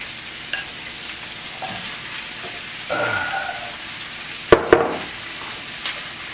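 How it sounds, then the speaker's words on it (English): Carrots drop into a hot pot for beef bourguignon with onions and garlic, a steady close sizzle of frying with a couple of sharp clatters and stirring scrapes partway through. "And we're adding our carrots"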